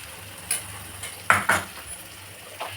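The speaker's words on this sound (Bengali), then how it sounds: "এবার মশলাটা বেশ ভাজা ভাজা হয়েছে, তেল ছেড়ে দিয়েছে মশলাতে" Masala frying in oil in a pan with tomato paste being added, giving a soft steady sizzle broken by a few clinks of a spoon against the pan.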